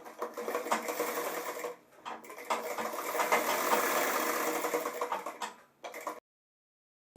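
A sewing machine stitching the fly of a pair of trousers, rapid close whirring runs of stitching broken by short pauses, ending in silence.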